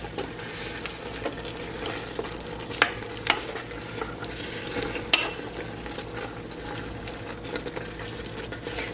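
Spinach and chard wilting in a pan on the stove, giving a low, steady sizzle and bubbling with a few sharp utensil clicks and scrapes scattered across it.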